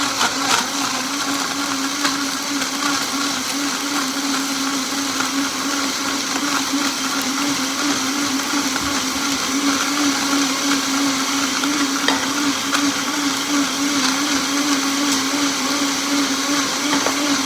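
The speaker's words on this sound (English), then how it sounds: "you need a high-speed blender for this" A high-speed blender whirs steadily as it blends fresh coconut into coconut milk, a loud, continuous motor drone with a strong low hum and churning noise that holds unbroken throughout, with no talking.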